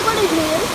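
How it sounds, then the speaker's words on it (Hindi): Water from an artificial waterfall and fountain in a temple park rushes steadily, a close, even splashing wash filling the brief moment. "आगे रहा गोटे वाटर फाउंटेन ये गोटे आर्टिफिशियल वाटरफॉल"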